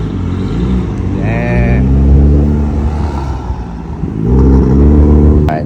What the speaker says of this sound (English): Damn, that exhaust sounds really good,